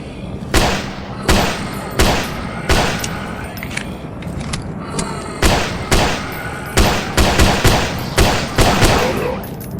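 Gunfire in the horror video game Silent Fogs: Echoes of Evil: a series of loud, sharp shots spaced irregularly, some in quick clusters, with echoing tails over a low ambient bed.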